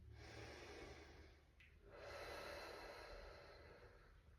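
Steady nasal breathing, slow inhalations drawn in through the nose during a guided fascial relaxation exercise, close and soft, with a brief pause midway and no talking.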